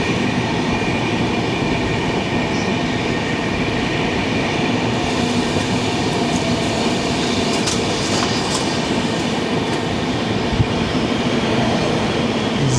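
The Kerala Express rolls along an Indian railway, heard loud and close from an open carriage door as it nears Bapatla station. A continuous roar of wheels and rushing air carries faint rhythmic clatter throughout.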